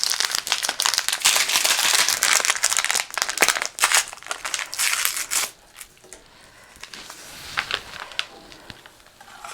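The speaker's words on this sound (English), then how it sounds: "I'm gonna add this orange Jello." Orange Jello powder shaken from crinkly packets into a pot of boiling water, a dense rustling pour that tapers into quieter scattered crinkles.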